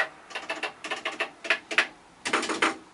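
Bursts of quick, clicky key taps on the keyboard of a Commodore PET 4016 8-bit computer, in uneven clusters with short pauses between, close by and moderately loud, no talking.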